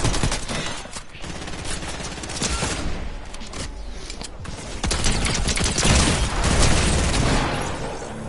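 Rapid bursts of pulse rifle fire from a video game, loud and sustained across the whole stretch with dense overlapping shots and blasts, and no talking over it.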